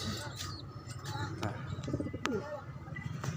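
Pigeons coo softly in a roost where one has laid an egg, with low repeated cooing phrases and a few chirps close by, plus faint background noise.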